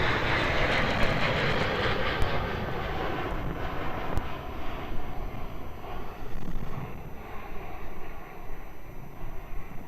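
A Qatar Airways airliner takes off from Melbourne Airport, its engines a broad, steady roar that holds strong and then slowly fades as the jet climbs away, with no talk over it.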